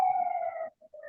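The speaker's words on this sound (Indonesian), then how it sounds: "baru ada ambulans lewat" An ambulance siren passes by outside, its steady wailing tone holding for about half a second, then breaking off and returning more faintly.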